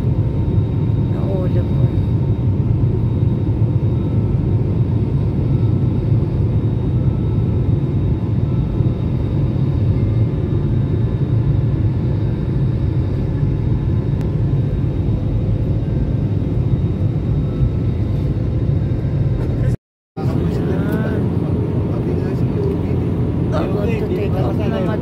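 An airliner in flight bound for Davao City drones from inside the cabin as a steady, loud low rumble with a faint high whine. It continues almost unbroken for the whole stretch, with one brief cut near the end.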